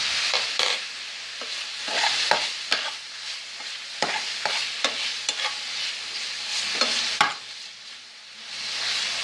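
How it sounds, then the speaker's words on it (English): Spaghetti with chorizo and onions sizzles in a hot pan while a utensil scrapes and taps as it is stir-fried, with a continuous frying hiss throughout. "I'm just going to keep stir frying it."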